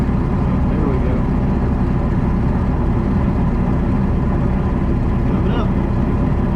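A Mercruiser boat engine idles with a steady, even low rumble that holds constant throughout, close and fairly loud, with no speech over it.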